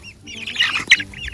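A young chicken gives a brief burst of close, high clucks and peeps, with a few short chirpy calls in quick succession.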